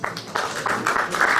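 Attendees in a hall at a drywall finishing seminar clap briefly, with a short run of close, uneven handclaps in small bursts.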